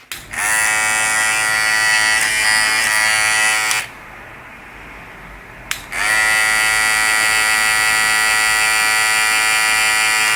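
A ProFX 880 cordless hair clipper buzzes steadily at close range, switches off for about two seconds, then starts again and keeps running with a bright, even whine.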